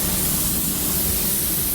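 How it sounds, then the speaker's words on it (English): Porphis PRD-717 paint spray gun with a split tip nozzle blasting as it is cleared, a continuous loud airy hiss held steady from start to finish with no voices. "I do got to clear my spray out"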